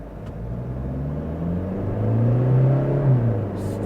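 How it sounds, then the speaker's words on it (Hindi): A Toyota Fortuner automatic 4x4 launched from standstill in sports mode, engine note rising steadily in pitch and loudness as it accelerates hard, heard from inside the cabin with a low rumbling drone. "यहाँ पे गाड़ी को ना एक बार 0 to 100 लॉन्च करते हैं स्पोर्ट्स मोड के अंदर ही"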